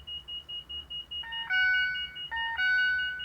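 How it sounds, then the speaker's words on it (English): A helicopter cockpit alarm beeps during startup, first as a quick run of short, regular pulses, then as two longer, louder sustained electronic tones separated by a brief break. "We'll silence that alarm here."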